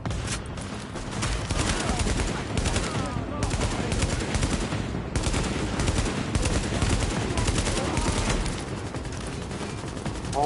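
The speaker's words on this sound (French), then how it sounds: "Heureusement, je tire pas trop mal." Constant gunfire from The Division fills the whole stretch, with dense rapid bursts of automatic weapons and scattered single shots crackling continuously at close range and steady loudness.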